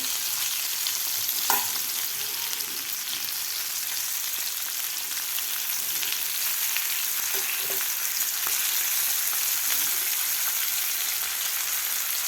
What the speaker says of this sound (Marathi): अशा प्रकारे पूर्ण कारले आपल्याला हे पलटी करून घ्यायचे आहेत